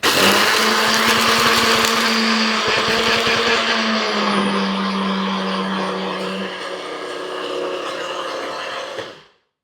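A blender grinding dehydrated cheese into powder, a loud steady motor whir with a changing pitch that runs for several seconds and then stops abruptly.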